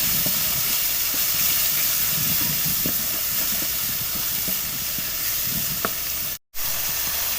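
Ground spices with turmeric and garam masala powder roasting in a pan for a spiced boiled-egg dish, giving a steady loud hiss and sizzle throughout with faint crackles, broken by one brief total dropout near the end.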